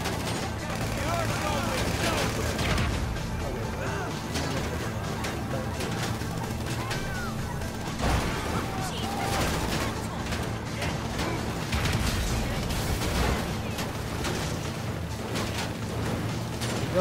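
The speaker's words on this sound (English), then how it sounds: "Ooh, yeah, they're shooting them." Gunfire during a GTA V heist setup at Humane Labs comes as scattered shots and bursts blended into dense, continuous game sound and ambience.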